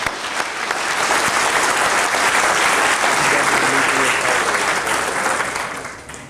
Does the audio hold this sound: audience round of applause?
yes